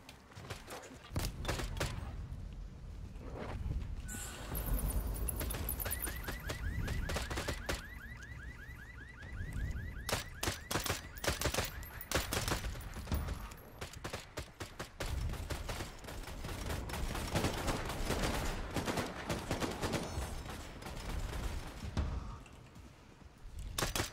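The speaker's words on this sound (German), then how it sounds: "Vier Schüsse von rechts." Gunfire effect during a tabletop vampire role-play session: bursts of shots ring out over loud, dense background music and sound effects, with a four-shot volley among sharp transient cracks.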